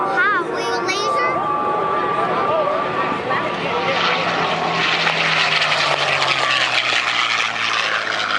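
A B-17 bomber passes over an air show, its propeller engines droning loud and building in a broad roar as it nears. Voices can be heard over the start.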